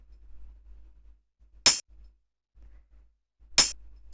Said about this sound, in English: It's just a little tambourine sample.